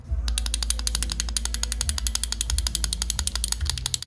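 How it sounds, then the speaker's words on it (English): Rapid, crisp clicking of a ratchet loosening the clutch nuts on a Jeep Wrangler YJ, a close, evenly paced run of clicks over a low background hum, no talking. "I'm loosening all the nuts that hold the clutch in place"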